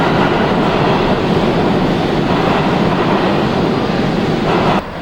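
An N subway train rumbles into a New York station, a loud continuous roar and clatter of wheels filling the platform before cutting off abruptly near the end.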